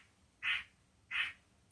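A bird gives two loud, harsh squawks about a second apart, each short and nasal like a quack, cutting into a quiet pause during a church sermon.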